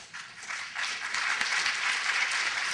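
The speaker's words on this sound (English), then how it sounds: "All of you who are clapping" An audience bursts into clapping that swells after a moment and holds as a dense, continuous wash of applause.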